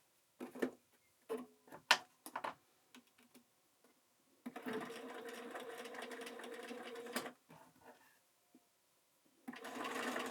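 A sewing machine stitches quilt fabric in short stop-start bursts of rapid mechanical ticking, followed by a longer steady run and then another burst, close and fairly quiet.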